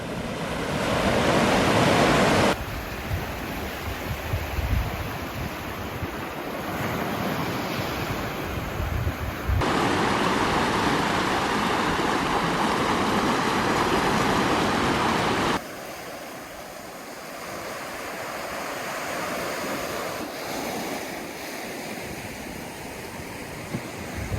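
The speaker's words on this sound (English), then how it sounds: "Every once in a while you get a giant wave." Sea waves crashing and surging where a river flows into the sea on the Irish coast at Allihies, a loud, continuous roar of surf with wind rushing across the microphone and no voices.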